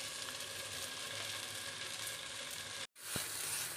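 Masala spices frying with softened tomato in a pan for a Palakkad-style chicken and ash gourd curry, a steady close sizzle that cuts out briefly near the end and then resumes.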